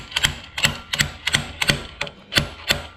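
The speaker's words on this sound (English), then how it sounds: "We want to rip that inside cage" Multi-grip pliers tear the inner roller cage out of a bearing in a series of about eight sharp metallic snaps and clanks, spaced roughly every third to half second, close and fairly loud with no talking.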